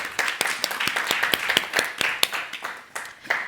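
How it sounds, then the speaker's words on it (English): A small audience claps at a panel dialogue on election misinformation. The claps are sparse and distinct, with sharp irregular hits close to the microphone for about three seconds and no voices over them. "Can you please give him a round of applause?"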